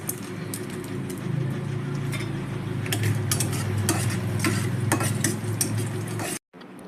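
Peanuts and chana dal, with a few cashews, frying in hot oil as a tempering for carrot rice, a steady close sizzle under repeated clinks of a stirring spoon against the pan that stops abruptly.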